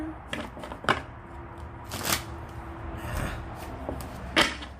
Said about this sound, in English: Let's get another clean shuffle.